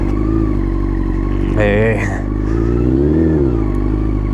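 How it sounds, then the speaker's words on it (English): A Yamaha R6 motorcycle with a Delkevic exhaust, baffle installed, rumbles loudly up close, its exhaust note rising in a couple of short revs before settling back to a throaty idle. "the Delkovich exhaust does sound nice"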